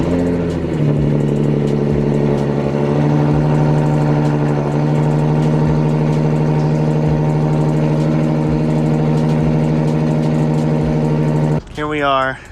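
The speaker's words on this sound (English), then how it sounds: "I'm gonna start my car and we'll see how loud this cold start is." A Subaru BRZ cold-starts with a brief crank, then settles into a loud, steady high idle that holds evenly for several seconds before a short blip near the end.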